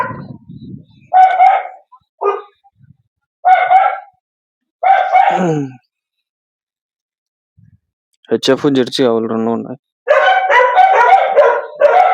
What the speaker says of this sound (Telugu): కుక్కలు ఉన్నాయి లోపల.